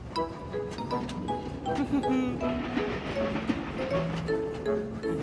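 Cartoon-style arrival of a new train at a station, with steady rolling rail noise and scattered whistle-like tones, while voices talk over it.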